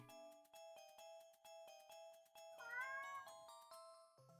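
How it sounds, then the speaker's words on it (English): A cat meows during a Pokémon Crystal play session, a drawn-out, rising and falling cry near the three-second mark, set against steady ringing electronic game tones with tinkly chimes and short beeps. "Oh, I thought that was my cat."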